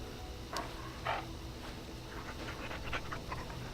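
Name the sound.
dog panting, video game Dragon Age Origins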